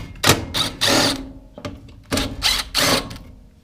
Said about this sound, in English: Hopefully I can reach them all with my drill.